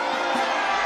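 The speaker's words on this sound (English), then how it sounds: "look at them, cheering that little pipsqueak" A large crowd cheers and roars at a public gathering for an announcement, a dense, steady wash of voices held at an even level throughout.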